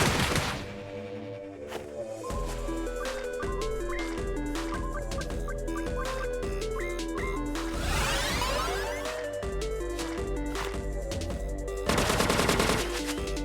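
Rapid retro-style bullet fire aimed at the player in the game Jack Move, a long even stream of quick repeated shots with tonal game sounds, a sweeping effect midway and a louder burst near the end.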